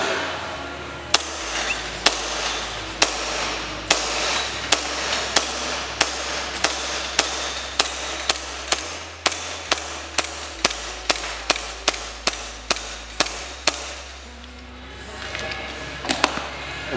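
Airsoft gas blowback rifle running on green gas from an adapter line, firing a long series of sharp, loud single shots at a fairly regular pace, each with a snappy bolt clack, with no talking.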